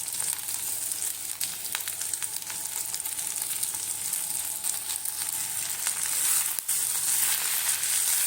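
Indian pennywort greens sautéing with onions in a pan for a chutney, a steady close-up sizzle and crackle running unbroken throughout, with faint stirring clicks.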